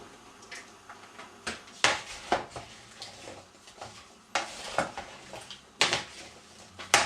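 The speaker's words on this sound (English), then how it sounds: "coarsely chop them into the pan and bring to the boil" Irregular knife chops and knocks as apples are coarsely chopped on a board into a pan, with clinks of cookware, close by and fairly quiet.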